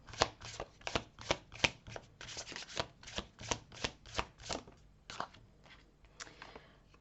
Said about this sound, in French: Je prends les 3 cartes en suivant.